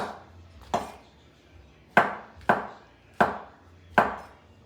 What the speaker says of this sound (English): I'm going to add some mushrooms to this.